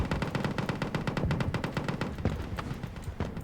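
Mobile artillery in the tank combat game Total Tank Simulator fires a rapid, dense volley of sharp, evenly spaced shots for a few seconds. The shots thin out and turn irregular toward the end.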